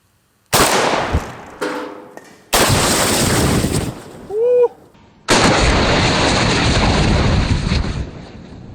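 AK-47 rifle shots fired outdoors, a few loud separate cracks and bursts with short gaps between them, the last one a long roaring blast that rings out, with wind buffeting the microphone.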